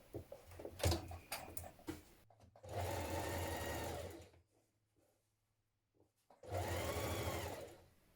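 A sewing machine hems the bottom of a summer dress in two long steady bursts of stitching separated by a quiet pause, with handling clatter and bumps before the first run.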